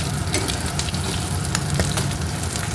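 Food frying in a hot wok in a home kitchen, a steady dense sizzle with crackling pops, close and continuous, no voices.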